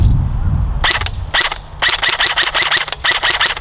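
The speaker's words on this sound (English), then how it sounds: "So I'm going to shoot at this target right here." A Noveske Space Invader Gen4 airsoft gun fires semi-automatic at a target, a series of sharp snappy shots, first two isolated cracks then a faster run of close, loud repeated shots.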